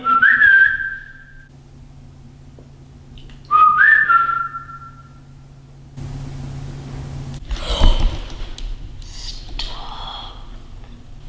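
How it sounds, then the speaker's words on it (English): Two clear rising whistles sound close in a quiet corridor of the haunted Pennhurst Asylum, a short pause between them, followed by rustling, breathy handling noise and faint hum. "We just heard a whistle?"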